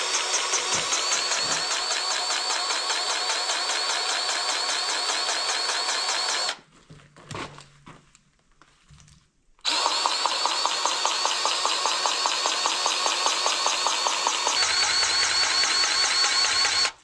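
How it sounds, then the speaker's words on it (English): Diesel engine of a Bobcat compact track loader running steadily as the tracks drive over material, loud and close, cutting out for a few seconds of near silence with faint thumps before resuming at full volume. "So what I'm gonna do now is just drive over all of it with my tracks."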